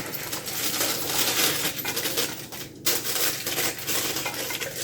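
Small hard pieces of mint candy clatter and rattle as they are poured into a bowl in a kitchen, a loud close jangle lasting several seconds with brief pauses.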